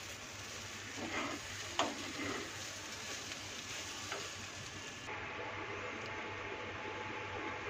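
Rice frying in a pan for prawn pulao, a steady soft sizzle with a few stirring scrapes near the start, faint and close, then the sizzle continues alone without talk.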